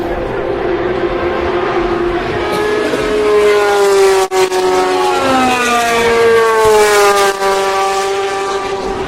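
GTE Pro-Am race cars pass at Le Mans, a loud engine note that rises and then falls in pitch as the cars go by, with a rich harmonic howl that fills the whole stretch.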